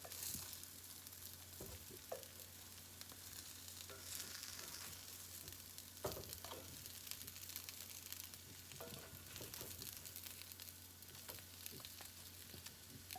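Wild salmon patties sizzle in a frying pan after flipping, a steady close crackle with occasional spatula scrapes and taps, with no talk.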